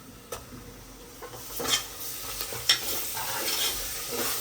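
Ginger garlic paste frying in a pan for biryani: a low sizzle that grows busier, punctuated by a few sharp utensil scrapes and taps, close and moderately quiet with nobody speaking.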